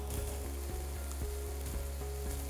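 Food frying in a pan gives a dense, even sizzle that holds steady and close, with a low hum and faint periodic knocks underneath and no clear speech.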